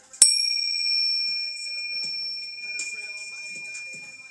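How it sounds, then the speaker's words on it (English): Small bells clinked together once for an energy-clearing ritual, a sharp bright strike followed by a long, pure ringing tone that slowly fades with faint background noises. "We're going to clink bells to clear some energy."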